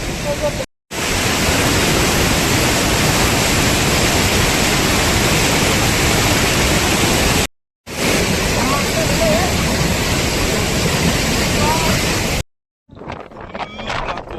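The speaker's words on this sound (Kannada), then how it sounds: "ಯಾವುದೋ ಫಾಲ್ಸಿಗೆ ಬಂದಿದೆ." A waterfall at Sakaleshpur thunders as a dense, steady roar that fills the clip, broken by two short silent gaps, with quieter sounds at the end.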